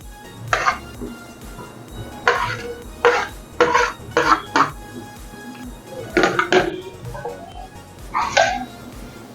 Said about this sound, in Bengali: এবার এই মাটনের আলুটাও দিয়ে দিলাম, মাটনগুলোও দিয়ে দেবো।